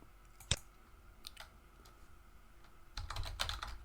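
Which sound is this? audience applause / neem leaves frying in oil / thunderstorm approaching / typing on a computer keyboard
typing on a computer keyboard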